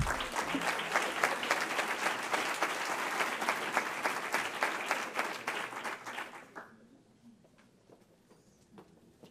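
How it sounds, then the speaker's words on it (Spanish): An audience at an entrepreneurship award ceremony applauds warmly for several seconds, a dense wash of many hands that fades to scattered claps. "Un aplauso, un aplauso"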